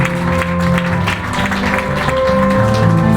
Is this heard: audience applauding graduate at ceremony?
yes